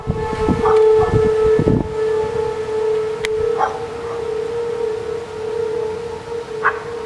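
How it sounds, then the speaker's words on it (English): Civil defense tornado sirens in Marietta sound during a tornado warning, a loud sustained wailing tone holding steady throughout, with brief rumbling bursts near the start and a few faint howls behind it. "you can hear the tornado sirens"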